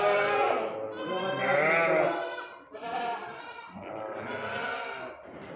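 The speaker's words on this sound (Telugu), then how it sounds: "మేకలు, గొర్రెలు, పొట్టెలు అన్ని మిక్సింగ్." Several goats, sheep and rams bleat together in a mixed flock, a dense overlapping chorus of loud, close wavering cries that swell and fade in three waves with only brief gaps.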